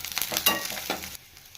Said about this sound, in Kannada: ಎಣ್ಣೆ ಕಾದ ನಂತರ 1 ಈರುಳ್ಳಿನ ಕಟ್ ಮಾಡಿ ಸೇರಿಸ್ಕೊತಾ ಇದ್ದೀನಿ. ಗೋಲ್ಡನ್ ಕಲರ್ ಬರೋವರೆಗೂ ಫ್ರೈ ಮಾಡ್ಕೋಬೇಕು